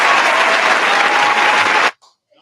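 A live talk-show audience bursts into loud, dense applause close by, a continuous roar of clapping that cuts off abruptly near the end and leaves only faint stray sounds.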